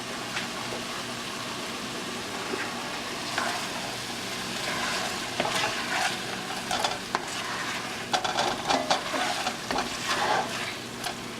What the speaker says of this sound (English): so we're just going to stir that in and get some color around.